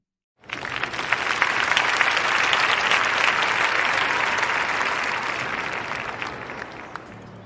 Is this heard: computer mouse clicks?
no